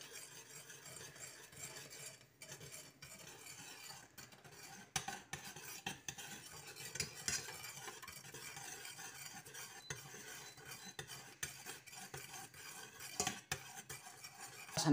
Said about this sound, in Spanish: Y vamos a dejar que no se caramelice, vamos a mover todo el rato. Lo que queremos es disolver el azúcar